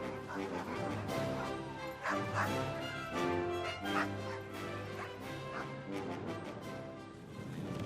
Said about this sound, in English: With them were nearly 70 Canadian sled dogs, uneasy at sea and in constant need of attention.